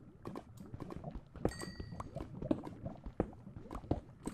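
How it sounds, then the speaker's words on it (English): A mob walks nearby in a modded Minecraft game, making a steady run of soft, quiet footstep thuds in an irregular rhythm, with no voices over them. "I hear his footsteps. That's kind of creepy"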